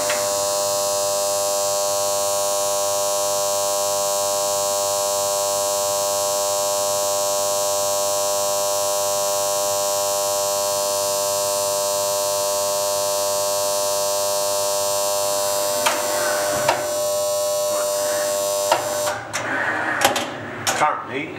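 A vacuum forming machine heats a plastic sheet, giving off a steady electric hum with tonal buzz that runs unchanged for a long stretch, then mixes with clicks and handling noises near the end.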